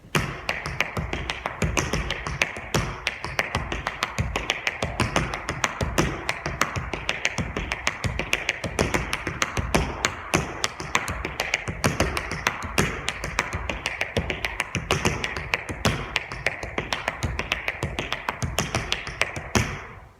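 Tap dance shoes striking the floor in a fast, continuous run of crisp taps, an advanced paddle-and-roll paradiddle exercise in even sixteenth-note rhythm with accents, close and loud with no talking.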